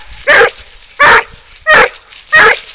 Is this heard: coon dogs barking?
yes